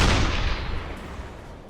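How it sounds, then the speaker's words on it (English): A U-boat deck gun fires at a ship in the submarine game UBOAT, one loud blast at the start that fades into a long rumbling decay. "We can just keep firing on this ship here with the deck gun, try and get her to go down."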